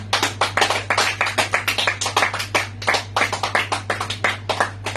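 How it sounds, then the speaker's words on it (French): Church congregation clapping together in a steady, rhythmic beat, close and fairly loud for the whole stretch, over a constant low electrical hum. "Je pensais qu'on allait applaudir le roi des rois."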